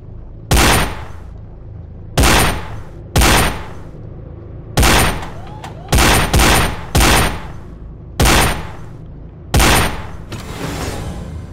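Eight loud, close gunshots ring out at irregular intervals, some in quick pairs, in the PSVR shooting game Gun Club VR with the S.W.A.T DLC, each cracking sharply over a low background hum.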